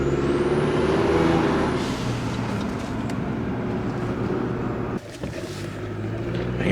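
A Chevy Colorado 2.7 turbo engine rumbles steadily as a turbo whistle fades, and a fitted blow off valve releases breathy hissing bursts over the engine drone.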